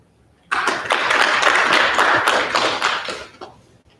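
Applause breaks out abruptly at an Air Force ROTC commissioning ceremony, a room of nearby hands clapping in a brisk, uneven patter that holds strong for about three seconds before thinning and fading out, with no voices over it.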